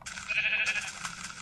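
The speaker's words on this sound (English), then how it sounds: "Oh, it's another sheep." A single sheep in Minecraft Pocket Edition gives one short, wavering bleat, fairly faint and heard alone.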